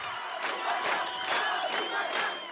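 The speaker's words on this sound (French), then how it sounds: "Puis le nom de la victime est scandé par la foule." A large crowd chants a name in loud rhythmic, repeated shouts, several syllables rising and falling together in a steady cadence from a massed gathering at a public rally.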